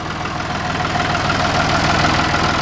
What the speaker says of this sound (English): You can hear it. It is a sweet sounding tractor.